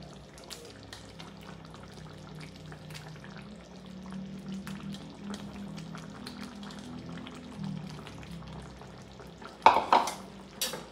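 Chicken kaldereta with hotdog simmers in a pot, a soft steady bubbling and low burble under faint clinks, close and quiet, followed near the end by a brief louder clatter of a utensil against the pot.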